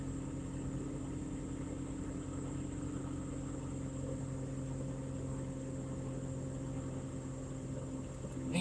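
A Nissan R32 GTR with Haltech tuning idles with a steady low engine hum and drone, constant and unbroken.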